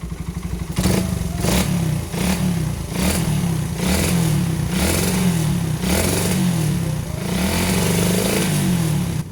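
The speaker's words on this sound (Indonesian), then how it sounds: "ini kemungkinan di RPM tengah sampai ke atasnya itu agak basah rasanya gitu, jadi agak berebet gitu" A Satria FU motorcycle fitted with a PE 26 carburetor and Predator CDI revs repeatedly up close, loud and rough, its engine sputtering and popping in the mid-to-high range as if running rich.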